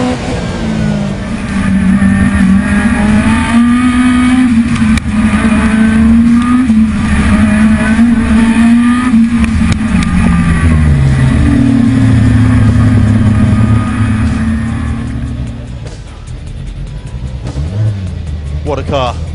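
A loud engine roars and revs, its pitch climbing and falling through gear changes, with a person talking over it much of the time.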